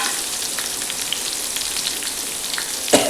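Colocasia leaves frying in a little oil for Kundapura-style bajji make a steady, fine crackling sizzle that runs close and even throughout, with a sharper clatter near the end and no talk.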